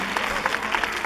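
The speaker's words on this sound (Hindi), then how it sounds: "पहले जोरदार तालियां बजाई जाए।" Audience at a children's Ramleela stage performance breaks into a quick burst of clapping, sharp overlapping claps filling a brief moment.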